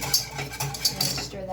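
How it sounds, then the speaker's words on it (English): A spoon clinks and scrapes against a bowl as vanilla extract is stirred into a mixture, with several light taps and scrapes close by over a quiet background. "stir that in"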